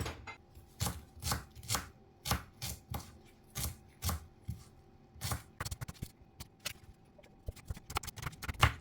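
Knife chopping callaloo leaves on a cutting board, steady rhythmic thuds in quick bursts with short pauses, close and clear, no talking.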